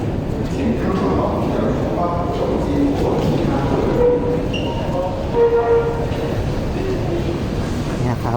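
A Paris RER train heads in from Orly airport with a loud, continuous rumble and rail noise, while voices murmur inside the carriage.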